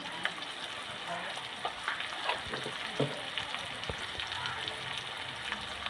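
Potatoes and onions fry in a pan with garlic paste, black pepper and cumin for an egg omelette curry. A close, steady sizzle runs throughout, with soft stirring knocks scattered through it.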